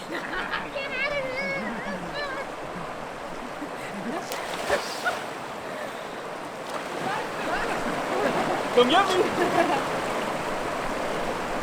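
People splash and wade in a fresh, clean river in Oaxaca, with steady rushing water throughout, voices calling and chattering over it and a few brighter splashes near the end.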